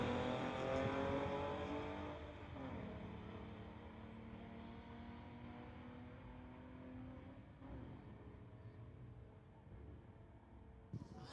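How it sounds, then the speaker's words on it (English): A 2016 VW Golf Sport Wagon and a 1994 VW Rabbit drag race down a strip, engines droning and climbing through the gears with rising harmonic whine, loud and steady, fading slightly toward the end. "It's Willie in the 2016 VW Golf Sport Wagon going against Megan Reelton from Maple Ridge in the 1994 VW Rabbit."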